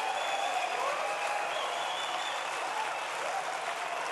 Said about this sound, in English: Lady Smith, Black Mambazo. Ladies and gentlemen, one more round of applause.